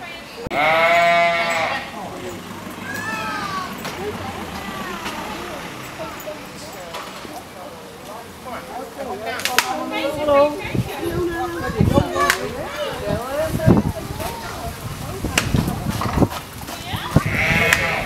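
Sheep at a children's petting farm in Hellevoetsluis bleat repeatedly, loud and close before shearing, while children chatter and play around them throughout.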